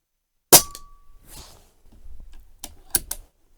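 A sharp air rifle crack with a brief ringing metallic ping as the shot hits a metal field target, followed by quieter rustling and a few more small clicks and knocks.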